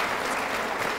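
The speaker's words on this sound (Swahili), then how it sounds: "makofi kwake jamani" Audience applause at a school debate, a steady dense wash of clapping from a hall full of people, continuous and even throughout with no talk over it.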